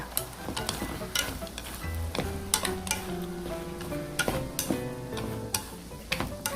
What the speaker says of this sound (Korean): 살살 하고 살살 이제 버무려주세요